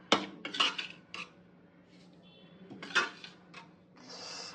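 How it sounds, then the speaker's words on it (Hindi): Metal spoon scraping and clinking in a steel bowl while roasted flour is mixed into sugar and dry fruit powder for dry fruit laddoos, a few sharp clatters with soft scraping between, close and fairly quiet. "अब मैं आटे को भी इसमें मिक्स कर"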